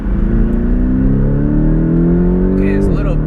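A mid-engine Porsche 718 Cayman GTS 2.5L with PDK gearbox pulling hard, its engine tone climbing steadily and loudly before a gear change drops the pitch near the end, with a voice speaking briefly over it.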